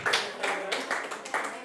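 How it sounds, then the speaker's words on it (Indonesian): Classroom clapping in an education session, a short burst of several hands clapping in quick uneven rhythm, close and fairly loud. "Beri tepuk tangan untuk Zafira."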